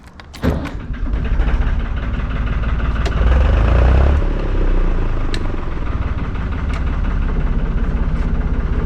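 A narrowboat's engine on the canal near Atherstone cranks and catches, then settles into a steady, loud, close chugging idle with a low rhythmic thump throughout.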